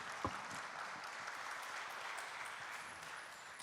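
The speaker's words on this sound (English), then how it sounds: "Shall we give up a round of applause for the audience for that?" An audience at an AI wellbeing summit gives a round of applause, heard as a faint, distant, even wash of clapping that stays steady throughout.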